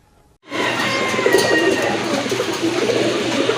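A crowd of fancy pigeons, including the red Ghora breed, kept for sale, coos close by in a dense, continuous burble that starts abruptly and carries on steadily.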